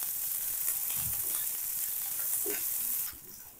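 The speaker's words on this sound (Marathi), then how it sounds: "आणि कांदा चांगला 1 ते 2 मिनिट आपल्याला परतून घ्यायचा आहे चांगला।" Chopped onion sautéing in a pan over a medium gas flame, a steady close sizzle that keeps going with a few soft stirring scrapes, then drops off near the end.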